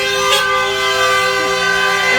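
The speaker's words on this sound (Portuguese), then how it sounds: "passou uns carros aqui, um encontrando o outro, sabe? Um buzinando de um lado, buzinando do outro" Car horns honk from passing cars meeting on a road, a loud, steady blare of overlapping sustained tones that runs through the whole stretch with traffic noise underneath.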